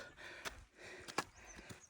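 Heavy, effortful breathing while trekking uphill on Velliyangiri hill, with a few sharp gasping inhales and snort-like breaths standing out over quiet, steady panting close by.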